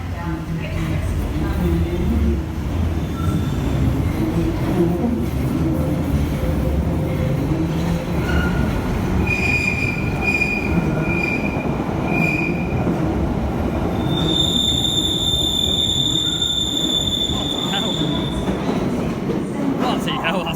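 A London Underground Bakerloo line train roars loudly into the station, with a steady rumble and rattle of the carriages and high, shrill wheel squeals rising near the end.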